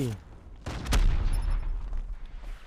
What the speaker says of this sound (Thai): ยิงทะลุไปเลย ยิงไปเลยยิงไปเลย